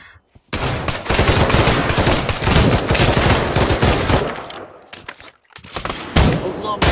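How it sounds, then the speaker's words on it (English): Rapid automatic gunfire and a grenade blast in the shooter game Pavlov, loud and close, forming a dense, continuous volley for several seconds that breaks off briefly and then resumes. "threw a grenade at me"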